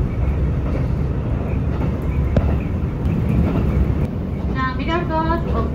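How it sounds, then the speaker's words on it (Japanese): A JR Rapid Mie express train runs over a bridge across the Kushida River, a loud and steady low rumble with wind noise, heard from on board, and a brief whistle-like whine near the end. "列車は串田川を渡っており、松阪市から滝町に入ります。"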